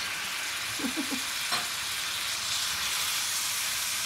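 Sherry and Pinot Noir hitting a hot pan to deglaze it for Jägersoße, giving a loud continuous hiss and sizzle with a few brief stirring knocks near the start.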